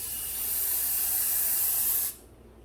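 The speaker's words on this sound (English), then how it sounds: "now we're gonna use the Apple Guard and we're gonna spray it" Apple Guard protector sprays from an aerosol can onto a Louis Vuitton bag, one steady hissing burst lasting about two seconds before cutting off sharply into quiet.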